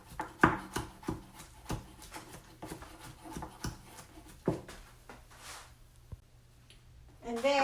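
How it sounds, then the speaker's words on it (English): Shrimp being finely chopped with a knife on a board gives a run of quick, sharp taps, then a pause and a few isolated knocks, with a voice speaking at the end. "when chopping the shrimp, make sure that you don't cut your fingers"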